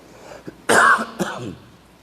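A single loud cough bursts out, followed by a smaller second cough, with quiet room noise before and after.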